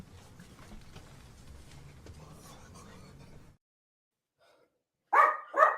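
A dog gives two loud, close barks near the end, after a stretch of muffled talking and then a short silence.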